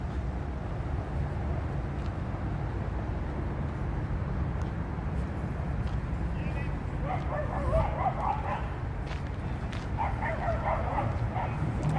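Several dogs bark and yip intermittently along the Hudson River waterfront on Manhattan's Upper West Side, fairly distant and half-buried in steady city and park ambience.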